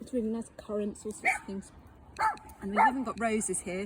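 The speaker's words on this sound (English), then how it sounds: "sorry my dog's misbehaving" A pet dog barks in short bursts in a forest garden, the barks close and interleaved with a person talking about plants throughout.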